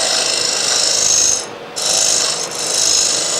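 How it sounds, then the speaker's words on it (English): A wood scraper cutting on a spinning lathe while shaping the foot of a bowl with carved feet, a steady raspy hiss that briefly drops out twice as the tool lifts. "I'm just going to use a scraper to straighten that out"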